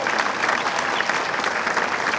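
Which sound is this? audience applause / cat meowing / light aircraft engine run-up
audience applause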